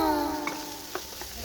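Mixed vegetables stirred into ground pork frying with seasoning in a pan, a soft steady sizzle with a few light spatula taps, brief and close.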